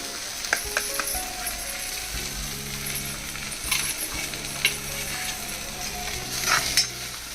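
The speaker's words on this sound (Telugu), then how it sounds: "ఇదిగోండి చక్కగా వేగిపోయింది కబాబ్ చేస్తున్నాను" A kebab fries in a pan with a continuous close sizzle, a few sharp metallic taps and scrapes scattered through, and no talk.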